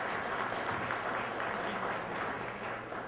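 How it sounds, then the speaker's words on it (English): Audience applause at an election victory party, a sustained round of clapping that stays fairly even throughout. "Let's give him a great applause."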